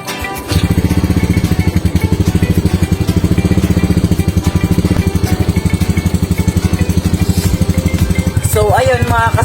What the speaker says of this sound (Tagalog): So tara nga palang i-cold start yung motor natin.